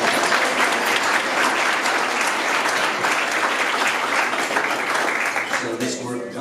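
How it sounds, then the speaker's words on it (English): A crowd at the 2021 Best Places to Work in the Federal Government rankings event claps in a full, sustained round of applause that stays loud and steady, then thins slightly as it winds down. "Good round of applause."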